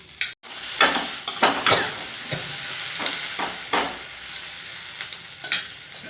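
Okra sautéing in a spoonful of oil in a pan during home lunch cooking, a steady close sizzle broken by repeated stirring scrapes and clatters, with no talking.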